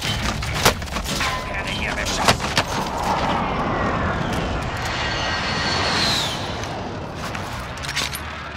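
Aircraft engine droning steadily in flight in the shooter game Warzone, a broad continuous roar with scattered sharp cracks and impacts layered over it, fairly loud throughout.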